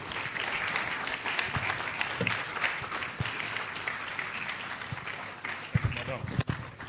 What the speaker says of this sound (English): Let's keep clapping for her, please.